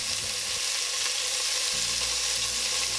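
Stew meat browning in oil in a pot for beef stew, a steady close sizzle and crackle of frying that runs unbroken throughout with no voices.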